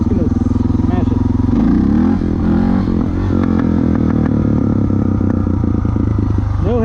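A Suzuki DR650 motorcycle engine with a Dynojet carburetor kit is run at full throttle, a loud continuous close-up roar climbing smoothly in pitch from low RPM without hesitation, with a voice talking over it.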